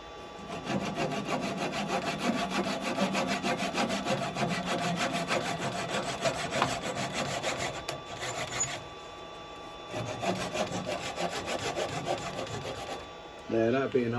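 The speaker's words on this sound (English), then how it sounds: "I can take that off with a handsaw because I don't want it to come flying off on me." A handsaw cuts through a wooden tenon on a turned box held on a lathe, a steady rhythmic rasping of strokes close up, pausing briefly around the middle before resuming.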